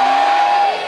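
A conference audience of gamers and YouTube fans at TGS Springbreak in Toulouse lets out a single loud collective shout, about a second long, a dense close mass of voices that quickly fades.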